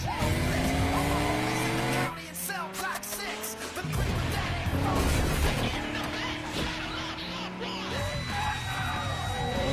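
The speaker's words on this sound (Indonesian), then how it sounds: "mobilnya pun terguling" A car crashes and rolls over during a street race in an unfinished housing development in Fast and Furious 3. Loud engine roar, tire squeal and crashing impacts sound together with music and shouting voices.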